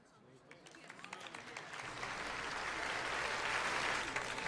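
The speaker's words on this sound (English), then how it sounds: "The way they clap, they're just clapping with their hands all the way above their head like that" Characters in Final Fantasy XII clap with their hands raised high above their heads, a scattered patter of claps that swells into steady, fairly loud applause.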